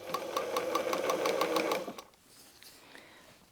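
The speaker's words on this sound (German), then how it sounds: "Wir können in einer Naht alle Rechtecke zueinander nähen." A sewing machine fitted with a quarter-inch foot and size 80 needle stitches patchwork fabric rectangles together in a fast, steady mechanical rattle for about two seconds, then stops, leaving quiet room tone.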